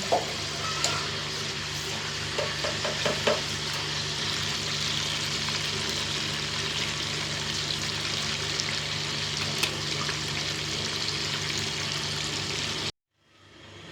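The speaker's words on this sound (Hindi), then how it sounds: "तो अभी ऑयल में सिर्फ फ्राई करना है" Crispy potato samosas frying in hot oil in a homemade village kitchen, giving a continuous even hiss with a few faint clinks early on before the sound cuts out abruptly near the end.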